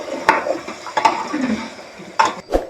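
Spoon stirs marinated chicken with onions in a pressure cooker, giving a few sharp metallic scrapes and clanks against the pot, spaced irregularly with soft wet shuffling between them.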